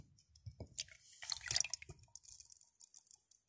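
Half a cup of milk poured out for a quick homemade dessert, a short liquid splash and dribble near the mic with a few wet drips trailing off into quiet.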